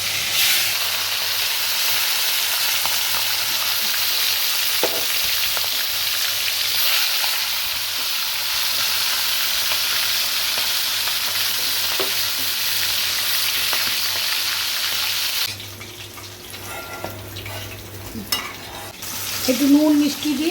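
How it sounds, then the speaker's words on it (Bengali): Hilsa fish heads frying in hot oil, a steady close sizzle and hiss that runs throughout, with occasional stirring scrapes and a busier, louder burst of spattering near the end. "এখন আমি ইলিশ মাছের মাথাগুলি ভেজে নেব।"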